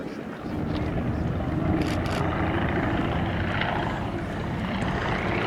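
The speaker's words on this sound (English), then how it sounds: "It's a 115 horsepower Shvestov M11D 5-cylinder radial engine." A Po-2 biplane's 115 horsepower Shvetsov M11D five-cylinder radial engine drones steadily and loudly at an airshow, a continuous propeller rumble with some wind buffeting, no voices.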